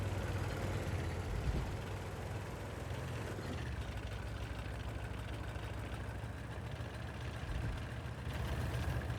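A tank engine idles in World of Tanks, a steady low rumble that holds at an even level throughout with no talking over it.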